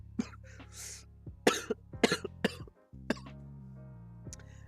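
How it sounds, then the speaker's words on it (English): A person coughs and clears their throat several times in short bursts while streaming a Bloons TD 6 game. The coughs are close to the microphone, with quiet pauses and a steady low tone between them. "I get a cough."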